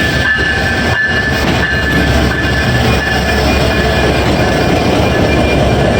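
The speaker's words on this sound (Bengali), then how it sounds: "ট্রেন চলে আসছে, চলুন ঝটপট ট্রেনে গিয়ে ওঠা যাক" A train pulling into a station rumbles loudly and steadily at close range, with a dense rattle of wheels and carriages and a few faint metallic knocks.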